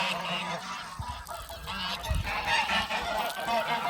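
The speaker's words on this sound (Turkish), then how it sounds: "Kaz da şöyle her tarafa geldi arkadaşlar." Geese honk repeatedly in a noisy outdoor setting, their calls mixed with a constant hiss of running water.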